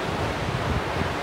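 Ocean waves washing onto a beach, a steady broadband rush of surf with wind, close and continuous, with no voices.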